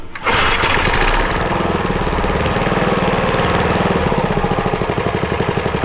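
A small steam roller's motor, found in a barn, runs cold with a loud, steady chugging and rapid mechanical knocking right up close, holding continuously after a quick start.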